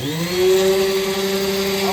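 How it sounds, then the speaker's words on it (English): An orbital sander whirs steadily with a sustained motor hum, loud and close, running without interruption. "We got ourselves an orbital sander."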